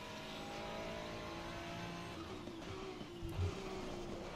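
Race car in a racing video game at Mount Panorama easing off into a braking zone then accelerating again, a steady close engine drone with shifting pitch and a brief bump near the end.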